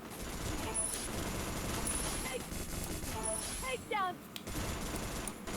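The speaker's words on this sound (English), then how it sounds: "Takedown spree." Rapid gunfire fills a mobile shooter game played on the BlueStacks emulator, with near-constant bursts and volleys over game sounds. A voice speaks briefly partway through.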